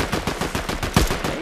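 Rapid gunfire in Fortnite, a quick burst of about eight to ten loud, evenly spaced shots with a heavier hit near the end.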